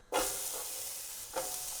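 A sudden loud hiss as onions hit a hot pan, settling into steady sizzling, with a second burst of sizzle shortly after.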